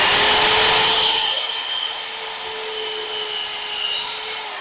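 A table saw runs loud and steady through pallet wood, its whine softening as the cut finishes and the blade keeps spinning, with no voices.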